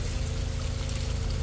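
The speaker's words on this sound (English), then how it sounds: "The amount of water coming from the top." Water pours steadily from above onto a rammed earth wall, a continuous loud rushing splash with no pauses and no talk.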